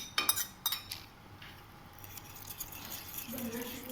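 A metal spoon clinks and scrapes against a dish while mixing cold milk into a halwa mixture, with a few sharp taps early on, then softer stirring, quiet and close.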